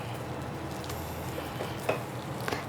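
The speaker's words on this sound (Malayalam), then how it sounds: "എന്നിട്ട് നന്നായിട്ടൊന്ന് മിക്സ് ചെയ്യാം." Drumstick leaf vada batter is mixed in a vessel, producing a soft steady wet churning with a few faint clinks against the side.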